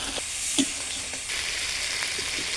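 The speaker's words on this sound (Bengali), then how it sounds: "ঝাল মশলা ভালো করে ভেজে নিয়েছি" Spicy masala sizzles and fries steadily in a pan for a Bengali tangra fish curry, a close continuous crackle with a brief louder spatter partway through.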